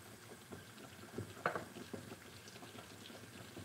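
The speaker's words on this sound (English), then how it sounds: "Well, just turn that down. A medium simmer." A pan of water bubbles at a medium simmer, faint soft popping and gurgling close by with one brief sharper plop.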